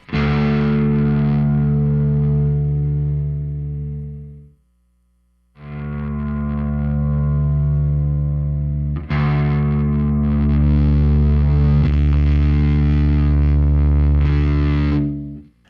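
Sustained, heavily distorted electric guitar chords through a Chris Ray Premium FX Member Hendrix fuzz pedal ring out loud and thick, with a brief gap of silence before they resume and swell even harder.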